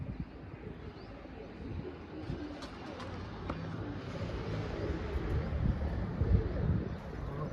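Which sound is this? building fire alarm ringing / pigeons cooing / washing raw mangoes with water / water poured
pigeons cooing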